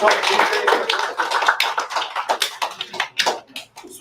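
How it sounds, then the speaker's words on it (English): Audience at an after-school youth event gives a round of applause for a guest speaker, a dense burst of many hands clapping that thins into scattered claps and fades out near the end. "Everyone, round of applause for TJ for waiting"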